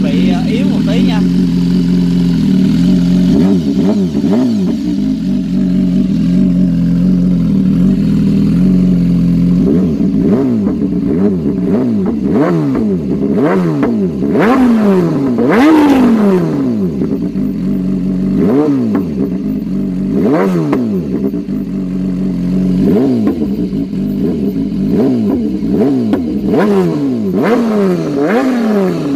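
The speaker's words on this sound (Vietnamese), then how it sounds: "Đó là tiếng khi mà lên bô cho S1000R." A 2018 BMW S1000RR with an SC Project S1 slip-on exhaust is revved repeatedly, sharp rising and falling engine sweeps over a steady idle, loud and near, with short pauses between blips.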